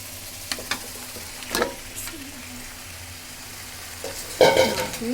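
Fish pieces go into a pan of frying spice masala cooked with nuts, where a soft background fry and a few taps of stirring give way to a louder burst of sizzling near the end.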